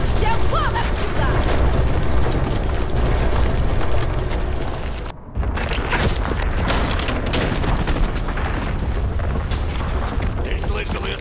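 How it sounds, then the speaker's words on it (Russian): Seismic tremors in the shooter game Crysis 2 rumble as a dense, loud, continuous booming roar with crackling blasts, briefly cutting out midway before resuming, while game characters shout over it. "Сейсмические толчки."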